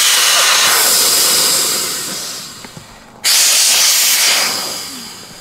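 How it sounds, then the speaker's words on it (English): Air rushes out of an open valve on an inflatable boat's pontoon in a loud, steady hiss, easing off, then bursting back at full force partway through as the valve is pushed again. "you will hear the rush of air as the air escapes"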